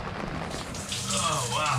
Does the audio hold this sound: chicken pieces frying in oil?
no